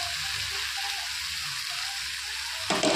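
Ground cumin, chili powder, turmeric and Kashmiri chili powder sizzle in oil in a pan while being cooked down for a snakehead fish curry, a steady close hiss that turns louder and sharper right at the end.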